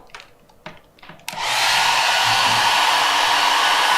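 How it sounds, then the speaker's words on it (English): A few taps and clicks, then a hair dryer drawing about 1,360 watts switches on and runs with a loud, steady whooshing roar. "let's run this hairdryer"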